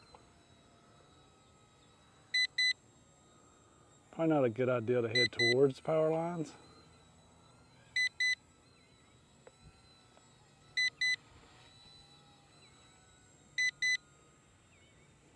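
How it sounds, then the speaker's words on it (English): Short high double beeps from an RCERA C127AI brushless RC helicopter flying in wind repeat at steady intervals over a quiet background, with someone speaking briefly near the start. "It's got a beeping going on."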